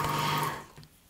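An Elna Air Electronic TSP sewing machine hums and whirs steadily at close range, then slows and winds down to near quiet within about a second.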